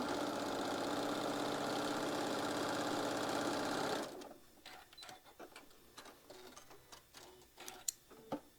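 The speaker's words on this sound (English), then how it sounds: "I always do a couple of anchoring stitches before I get everything in position." A sewing machine stitching a quilt block runs in a fast, steady mechanical whir for about four seconds, then stops abruptly and gives way to scattered clicks and handling taps as the fabric is adjusted.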